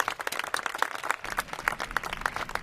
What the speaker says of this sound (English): let's give yourselves a round of applause for being such an outstanding college